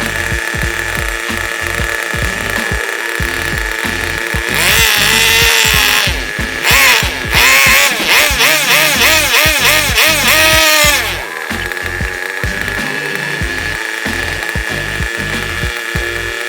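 ENYA 11CX nitro race engine running on a test stand during first break-in, a loud, buzzy high-revving drone that rises sharply in pitch for several seconds mid-clip before settling back to a steadier idle, close and continuous.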